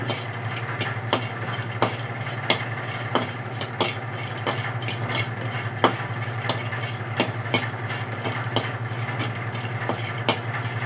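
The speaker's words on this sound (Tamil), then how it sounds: "லைட்டாக வதக்கணும்." Copra coconut sautés lightly in a pan, a soft steady sizzle under a low hum, punctuated by regular sharp scraping taps of a spoon stirring every half second or so.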